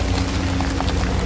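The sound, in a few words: splashing water of a city fountain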